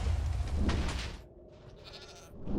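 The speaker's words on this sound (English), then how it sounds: "With this mod, goats will be more meaningful in Minecraft." A goat bleats in Minecraft with the Goat Expansion mod, a loud, wavering bleat at close range that fades into a quieter stretch before another rises at the end.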